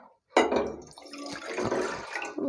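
Water is poured from a container into glasses in a kitchen, one close gurgling pour that starts abruptly after a brief silence and carries on steadily, with no talking.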